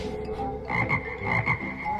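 Frog croaking sound effect: a steady low background hum, then a series of loud, throaty croaks in quick bursts close up, with no voices.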